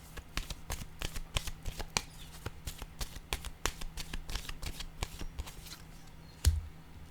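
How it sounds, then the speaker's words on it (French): Oracle cards being shuffled and drawn by hand, a steady run of rapid papery flicks and riffles up close, ending with a single sharper tap. "Je vais piger une autre carte sur ces deux-là."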